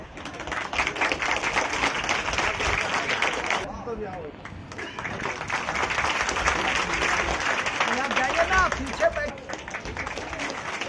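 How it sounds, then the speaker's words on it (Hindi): Audience applause at a railway halt station foundation-stone ceremony, a dense steady patter of clapping filling the clip, with a brief dip near four seconds before it swells again. "तालियां बजती रही।"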